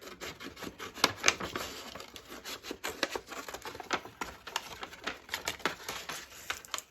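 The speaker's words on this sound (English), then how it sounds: "cut the bottom now. And then I'll get the other side, so that way it's easier to cut the rest of the bottom." Scissors snip and rustle through the bottom of a paper gift bag with handles, a quiet run of irregular crisp cuts and paper scrapes close to the mic, with no talking.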